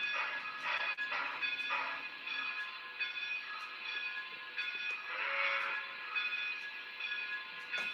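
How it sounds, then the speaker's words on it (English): An N scale model train runs along a layout during an industrial-park operating session, a faint steady rolling whir with a soft whistle-like tone rising briefly in the middle, no voices. "So there's our train for the day."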